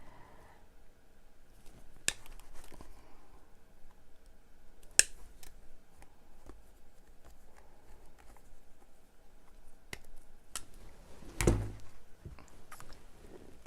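Scissors snip off pieces for a Dollar Tree star-frame butterfly wreath, giving a few sharp, isolated clicks and cuts spread across a quiet room, with a louder cluster of snips near the end.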